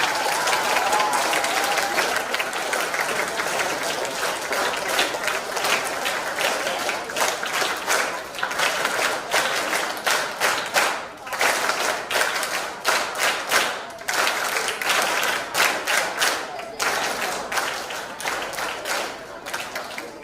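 Sustained applause from an audience at a school event, dense overlapping hand claps running steadily for about twenty seconds at a loud, even level with some crowd murmur mixed in.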